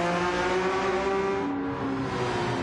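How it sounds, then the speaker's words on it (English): A Porsche race car runs around a track, its engine a steady mid-pitched drone holding gear, dipping briefly as it shifts or lifts before pulling on, heard at a moderate distance. "Pedro's coming around with his Porsche 22"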